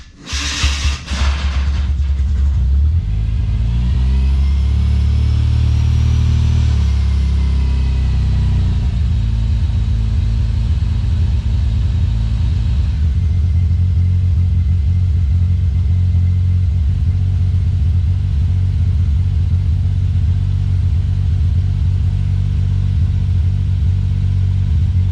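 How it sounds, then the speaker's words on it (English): A Suzuki Cappuccino engine running on a Microsquirt ECU after its first start, cranking briefly, catching and revving up, then settling into a loud, steady, slightly uneven idle close by. "for now, we got a running car"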